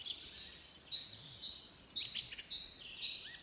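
Soft, high bird chirps repeat every half second or so against a quiet hiss, thin and somewhat distant.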